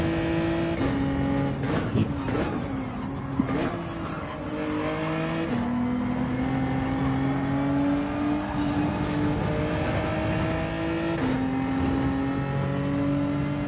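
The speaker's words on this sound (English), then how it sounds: "we got a few cars going by us" Race cars roaring past in a seaside racing video game, several engine notes overlapping and shifting pitch as they pass, loud and continuous with revving throughout.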